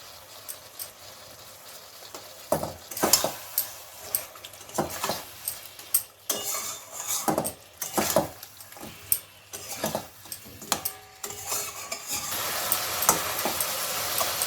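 A metal spatula stirs green chillies in a pan of simmering tengra fish curry, making repeated scraping, tapping strokes over a soft bubbling sizzle.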